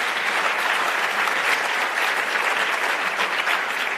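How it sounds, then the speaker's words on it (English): A room of conference attendees gives panelists at a youth trade convention a dense, steady round of clapping, close and even throughout with no voices over it. "Let's just give them a round of applause again."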